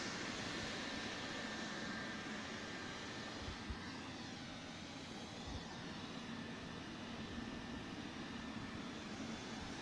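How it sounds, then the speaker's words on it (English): An Emirates Boeing 777-300ER taxis on a wet surface, its jet engines sending a steady, broad roar and spray wash, heard as a continuous distant-to-moderate rushing hum with no talk. "Engines blasting that water straight out."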